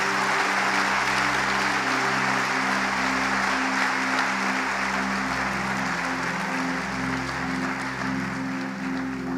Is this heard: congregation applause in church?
yes